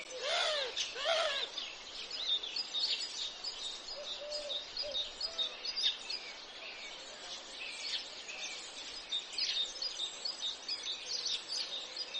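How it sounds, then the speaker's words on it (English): Birds sing and chirp in a garden in early summer, with repeated bright calls and trills throughout and a soft cooing note in the middle, and no talking. "Here are the birds again to accompany your thoughts."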